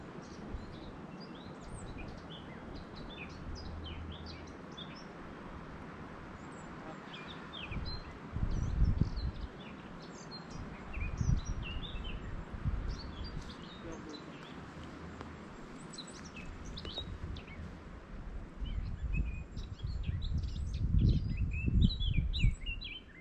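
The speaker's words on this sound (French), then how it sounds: "Très joli chant d'oiseaux." Birds sing and chirp outdoors with many short, bright calls scattered throughout, moderately close, while low rustling and handling noise rumble underneath at intervals.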